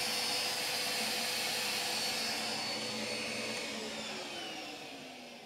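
Henry HVR200 canister vacuum cleaner running close by, a steady high-pitched motor whine with a broad airy rush that holds evenly and then gradually fades toward the end, with no talk.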